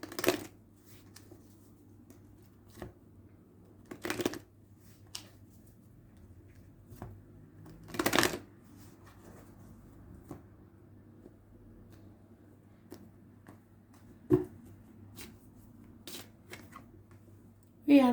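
An Aboriginal Goddess oracle card deck being shuffled, with sparse, brief riffling bursts spread through a long, quiet stretch.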